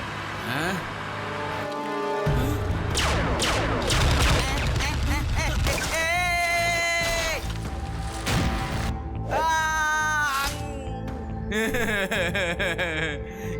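Gunfire rings out in an animated action cartoon, layered over music and shifting effects, with rapid cracks and loud whooshing bursts that keep the mix dense and loud throughout.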